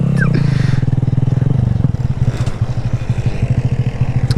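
Honda Grom motorcycle riding off-road, its small engine thrumming with a steady pulsing rhythm up close, with clattering and scraping over rough ground.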